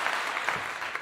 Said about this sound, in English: Let me give you a clap there.